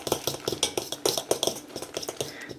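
A metal utensil scrapes and taps against a pot as a spinach rice casserole mixture is stirred, making a steady run of close, light clinks and scrapes with no talking.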